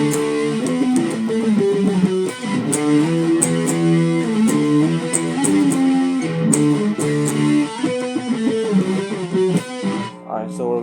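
Electric guitar plays the first bridge of a song, with flowing sustained chords and picked notes over about ten seconds, close and alone, ending as the sound cuts off.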